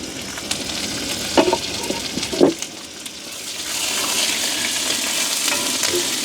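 Onions, green chillies and curry leaves frying in a pan for a spicy village feast, a steady close sizzle with a few sharp crackles and stirring scrapes, the hiss growing brighter toward the end.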